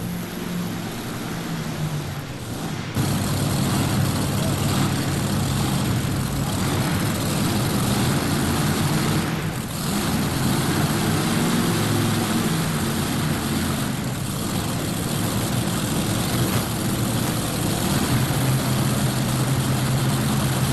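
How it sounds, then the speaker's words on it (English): A tractor-pull tractor with Millodon engines roars during a pull at a 1991 farm machinery show, a loud, continuous, droning engine sound that holds steady for about twenty seconds after a sharp onset. "And the Millodon engines all working super good"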